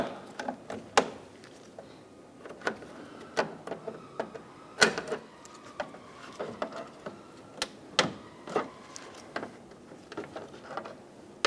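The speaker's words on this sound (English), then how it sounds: "Using a trim tool, we're going to pop all of the plastic clips out of the top trim." Plastic clips being popped out of the top radiator trim of a 2012-2020 Chevrolet Sonic 1.8L with a trim tool, giving a scattered series of sharp, close clicks and snaps at an irregular rhythm, with no talking.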